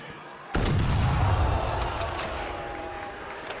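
Shotgun blast in a Call of Duty esports match: a sudden loud boom that rings out and decays over a few seconds, with a faint second shot near the end and a dull crowd-like wash behind.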